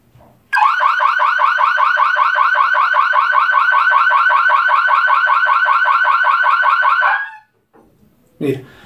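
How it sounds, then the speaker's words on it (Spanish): A home security alarm in a smart-home system sounds as a loud, continuous rapidly pulsing electronic tone for about seven seconds, then cuts off abruptly, followed by a brief voice. "obviamente voy a activar la alarma"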